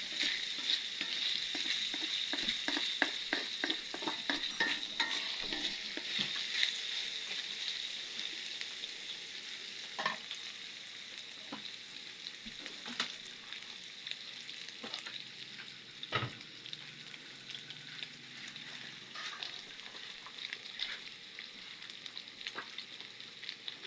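Ground meat and onion frying together in a pan, a steady sizzle with frequent scraping stirs, busier in the first few seconds, then continuing alone at moderate level.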